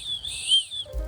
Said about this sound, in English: The whistle sounds good.